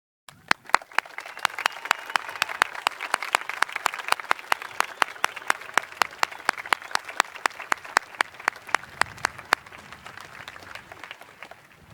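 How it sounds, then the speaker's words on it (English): An audience applauds at a graduation ceremony, with steady clapping from a crowd and sharp individual claps standing out close by, easing off near the end. "Students joining the military, please stand for applause."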